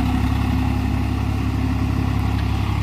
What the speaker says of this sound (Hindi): अभी ये लो के तीसरे गियर पर 1400 RPM में चल रहा है।